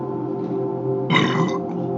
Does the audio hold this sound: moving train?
no